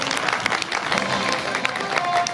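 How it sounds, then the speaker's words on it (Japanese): An audience at a football talk show event claps as a former player takes the stage, a brisk continuous round of applause with a few sharp individual claps standing out. "拍手お願いします。"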